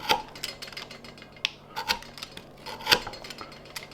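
Small pieces being sliced off a homemade waxed fire starter with a blade, heard as close, quiet scraping and rasping strokes with a few sharp clicks, spaced irregularly and with no talk.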